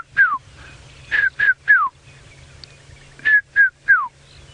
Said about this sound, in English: that lovely sound of summer way in the background, that red-chested cuckoo.